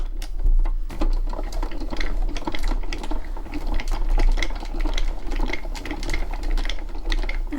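Hand-cranked embossing machine pressing paper through its rollers, a continuous rapid clicking and grinding rattle at close range, steady throughout with no talking.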